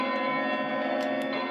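On Boxing Day, a half-muffled church bell at All Saints, Maidstone, is rung down. It gives a brief, sustained ringing tone rich in overtones, with faint clanks over it, and no talk.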